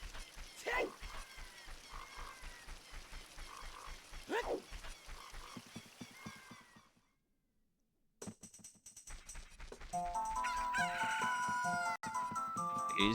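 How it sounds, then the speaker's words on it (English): A rooster crows in the Zelda Ocarina of Time video game, heard among game sounds with a bark-like call, followed by a brief silence and then game music. "He's crowing."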